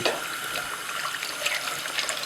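Water running from a kitchen tap while preparing stuffed grape leaves, a continuous bright splashing hiss at moderate level with no one talking.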